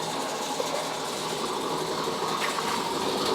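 An old engine on exhibit at the Castle Museum in Saginaw, Michigan, turning slowly, gives a steady, close mechanical whir and clatter that holds at an even level throughout, with no talking.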